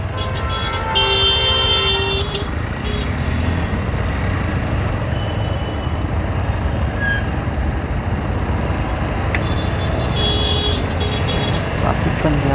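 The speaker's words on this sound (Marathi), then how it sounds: "ट्रॅफिक पण जाम आहे एकदम." A traffic jam at a road junction toward Thane and Mumbra, with a dense, continuous rumble of engines. Car horns honk in bursts near the start and again toward the end.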